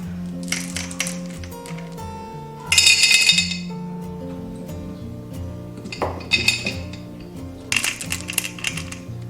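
Dried yellow fruit, dried bayberries and rock sugar dropped in turns into a sterilized glass jar, making bursts of sharp hard clinks and rattles separated by quieter pauses, close by.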